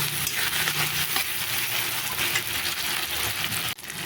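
Tomato and onion frying in a pan for a home-style fish thali, a steady, loud sizzle with faint scraping and clinks from stirring, continuous throughout with a brief dip near the end.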